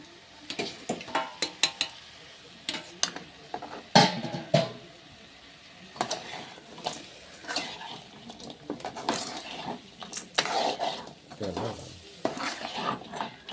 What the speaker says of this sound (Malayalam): ഇനി നമുക്ക് വറുത്ത് വെച്ചേക്കുന്ന മീൻ ഇതിലോട്ട് തട്ടാം